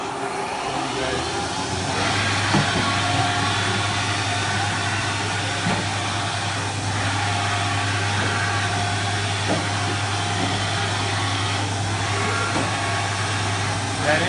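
A Haas VF-3 four-axis vertical machining center runs a cutting program with its spindle at 7,500 RPM, giving a loud, steady mechanical drone and low hum with faint ticks throughout.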